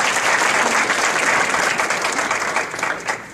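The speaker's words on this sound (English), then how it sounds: "a round of applause for Sound School" An audience at an honors ceremony for top high school juniors claps steadily and loudly, the dense applause tapering off slightly toward the end.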